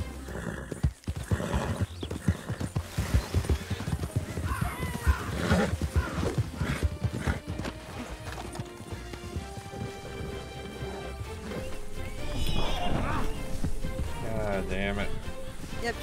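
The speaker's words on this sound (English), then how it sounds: "Get on your horse. Get on it as fast as you can." Horse hooves clip-clop in a quick rhythm with a neigh in Red Dead Redemption 2, over rainfall and busy game ambience, with voices talking throughout.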